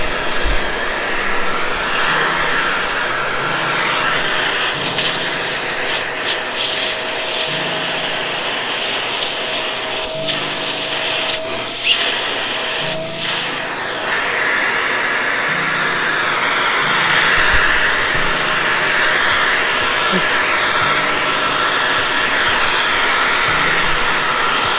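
A vacuum cleaner drones loudly and continuously as it suctions a girl's hair, its steady roaring whoosh shifting slightly in pitch as the airflow changes.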